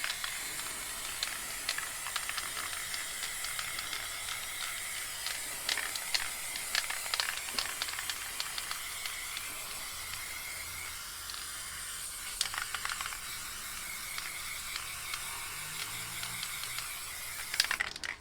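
Can of black spray paint hissing onto a canvas in long, continuous bursts with brief pauses and the rattle of the can, close and steady, no talk.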